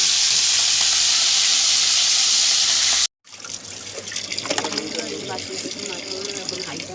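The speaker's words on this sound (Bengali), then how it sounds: "আমি এখন এই যে শাক ভাজা বসাচ্ছি।" Greens (saag) hiss and sizzle as they fry in a hot pan, a steady loud crackle that cuts out briefly and then returns with stirring and clatter.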